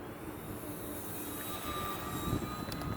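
An E-flite AT-6 1.5m electric model airplane flies on its maiden flight, a steady whine and whoosh heard from a distance outdoors over low background rumble, without pause.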